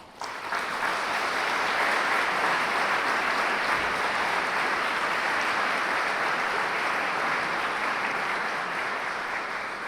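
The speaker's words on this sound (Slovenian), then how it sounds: "si te očarljive študentke in študent zaslužijo naš aplavz" Sustained audience applause at a university chemistry faculty centenary ceremony, honouring students who sang the anthem; dense, steady clapping from a large crowd filling the hall for about ten seconds.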